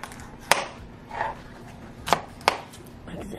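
Knife chopping potatoes on a cutting board while cooking steak and potatoes at home, with a few sharp, separate chops spaced irregularly and close up.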